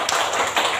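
Junior high school students in a civics class clap their hands together in a brief, dense burst, loud and close in the classroom.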